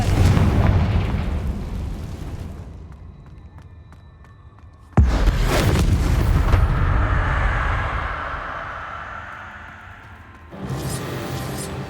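Two loud blasts of the Confringo fire spell in Hogwarts Legacy inside a cave, each a sharp bang followed by a long rumbling, crackling decay, the second explosion striking halfway through and a third burst starting at the end.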